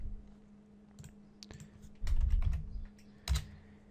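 A router IP address is typed on a computer keyboard, heard as sparse close clicks followed by a louder cluster of keystrokes and a final firm key press, alone over a faint steady hum.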